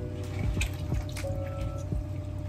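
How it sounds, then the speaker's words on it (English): Tap water splashes over food being rinsed while cooking chicken, a soft continuous trickle broken by scattered drips and patters, fairly quiet with no one talking. "So I'm just rinsing this off."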